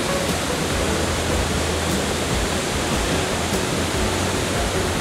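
A waterfall in northern Bali, dropping into a deep pool, roars as a steady, loud, unbroken wash of rushing water that fills the whole stretch.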